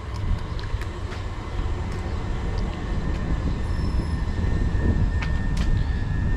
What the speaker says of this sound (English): arriving in now is the 1428 Southeastern service to Hastings